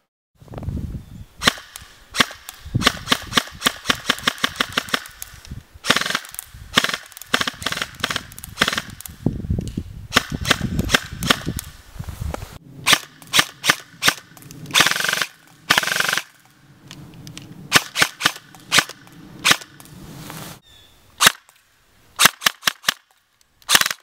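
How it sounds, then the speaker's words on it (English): A custom Socom Gear MK18 airsoft rifle fired outdoors in repeated bursts and rapid strings of sharp cracks, loud and close, with brief pauses between volleys. "We'll shoot it a little bit, let you see what it sounds like, rate a fire"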